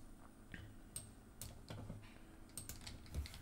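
A password being typed on a computer keyboard, a quick run of light, close key clicks at an uneven rhythm over a few seconds against a quiet room hum.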